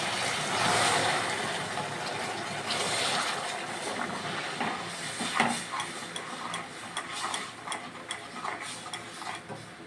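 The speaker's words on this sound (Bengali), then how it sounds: "এবারে অল্প করে জল ঢেলে দিচ্ছি" Water goes into a hot pan of sugar syrup for semolina halwa, hissing and sizzling loudly at first, then settling into softer bubbling with spoon scrapes and stirring clinks, no voices.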